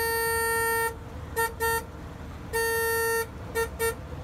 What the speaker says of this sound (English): And then there's the horn, which leaves something to be desired.